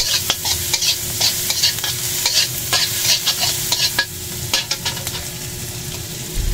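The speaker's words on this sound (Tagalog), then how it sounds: "So magigisa muna tayo ng bawang, kamatis, bawang," Garlic and tomato sautéing in a pan for bagoong fried rice, a steady close sizzle broken by repeated scraping and clinking stir strokes, with no talk.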